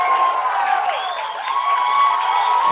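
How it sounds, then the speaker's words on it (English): Home baseball crowd at Ray Fisher Stadium cheering and roaring steadily as Michigan fans rise to their feet against Ohio State, a dense sustained wash of voices and whoops with no clear break. "As the Wolverine crowd coming to their feet here at Ray Fisher Stadium"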